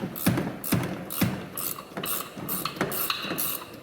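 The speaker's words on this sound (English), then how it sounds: "that's why a ratcheting wrench really comes in handy here" A ratcheting wrench backing off the upper shock stem nut on a Jeep Wrangler JK, clicking in quick, repeated, fairly loud strokes close by with a steady rhythm, with no talk.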